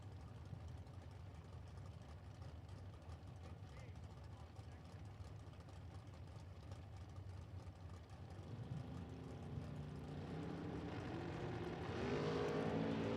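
Drag racing cars at a Las Vegas Spring Fling event, a Nova and a Mustang running side by side down the strip, engine roar building steadily louder toward the end under continuous announcer commentary.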